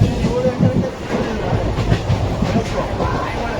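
Mangalore Central Express train pulling out of Bagalkote railway station, a steady loud rumble of wheels and carriages with rhythmic clatter, heard from aboard, with faint voices underneath.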